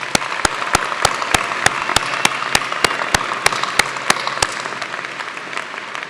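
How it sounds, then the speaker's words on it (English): Applause for graduating seniors at a 2015 high school graduation ceremony: a diffuse crowd clapping continues throughout, crossed by a regular series of sharp, loud clicks that fade out toward the end. "please join me in a round of applause for these outstanding seniors"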